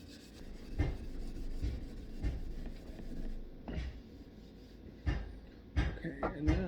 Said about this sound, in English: Might give it a light sanding.